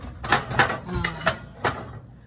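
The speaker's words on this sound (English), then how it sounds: "I'm gonna spoon it over the biscuits so that they can soak up the butter" A spoon clinks against a pan or bowl while melted butter is spooned over buttermilk biscuits, several light metallic taps in an uneven rhythm, close by, with no talk.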